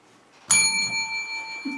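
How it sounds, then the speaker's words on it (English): A shop doorbell gives one bright, sudden ring as the door opens. Its metallic tone hangs on and slowly fades. "Just get a quieter doorbell"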